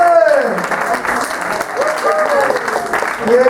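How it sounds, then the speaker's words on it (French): Audience applause for a singer in a song-contest semifinal at La Maroquinerie, a dense steady wash of clapping with cheering voices rising through it, sustained and fairly loud throughout. "Applaudissez pour elle, s'il vous plaît."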